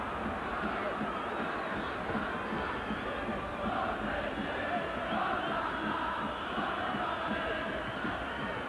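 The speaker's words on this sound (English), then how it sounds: "The Florence crowd in great heart here. Good voice too, really making themselves heard around the stadium." A large football stadium crowd in Florence roars and chants continuously in the distance, a steady wash of massed voices that swells slightly and never breaks.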